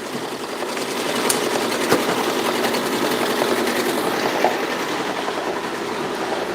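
A new Juki sewing machine runs continuously with a fast, steady mechanical rattle and clatter, close and fairly loud, with no talking.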